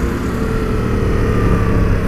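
A 2017 Yamaha Tracer 700 motorcycle's engine runs close and loud, a steady buzzing drone with a gentle rise in revs, no voices over it.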